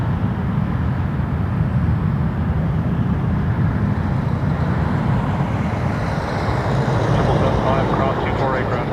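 Flair Boeing 737 MAX 8 taking off at night from Toronto Pearson, bound for Cancun: a constant heavy jet rumble with a faint rising whine near the end.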